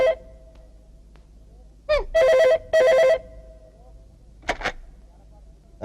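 A telephone rings in short electronic bursts, loud and close, in a Hindi action thriller scene, with brief noises between the rings and no talking over them.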